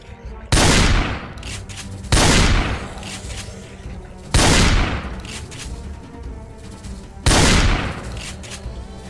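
Rifle gunfire in the video game Project Zomboid: four loud, sharp shots spaced about two seconds apart, each trailing off in a long echoing decay.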